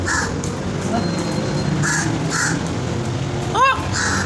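A myna bird calls repeatedly in short harsh squawks spaced across the span, with one louder warbling call near the end over steady outdoor background noise in Kuala Lumpur.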